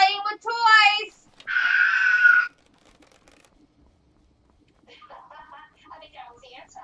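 A child screams loudly at close range in a home, one drawn-out cry after a short burst of high voices, then faint talk follows in the background.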